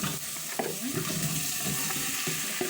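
Onion softens as it fries in a pan for a Moroccan honeyed sweet potato and raisin dish, a steady close sizzle with occasional stirring scrapes, alone without talking.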